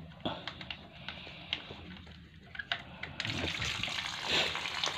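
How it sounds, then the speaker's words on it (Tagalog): Water hisses and gushes steadily out of swimming pool equipment during backup before start, a constant rushing flow with occasional splashes and knocks that grows fuller and louder in the second half. "Tapos pasingawin nyo lang yung tubig."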